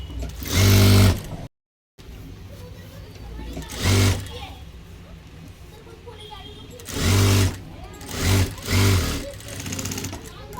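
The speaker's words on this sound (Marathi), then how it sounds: "परत डबलची स्टिच मारून घेणार आहे" A sewing machine stitches a blouse sleeve in short loud whirring bursts separated by pauses, close up, with quiet handling sounds between runs.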